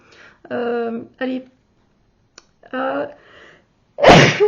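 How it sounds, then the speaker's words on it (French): A person sneezes once, sharply and close, after sniffing a series of perfumes; the sneeze comes at the end, following brief talking. "J'ai senti tous les parfums, j'ai éternué un peu."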